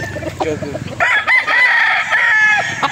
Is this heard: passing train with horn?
no